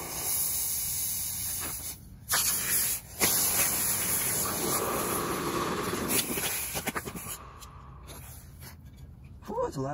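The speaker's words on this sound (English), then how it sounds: "A lot of steam." Steam hisses steadily from hot forged steel being quenched, a broad loud spray-like rush with brief gaps and surges, close up.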